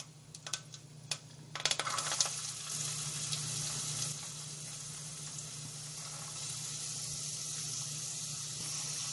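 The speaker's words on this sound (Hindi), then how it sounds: "उसके बाद मैं इसमें ऐड करूंगी कड़ी पत्ता. फिर मैं इसमें डालूंगी प्याज." Curry leaves and onion go into hot oil in a pan for a potato and cabbage sabzi, giving a few sharp crackles and then a steady, even hiss of frying under a low hum, with no talking.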